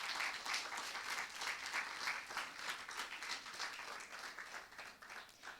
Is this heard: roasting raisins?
no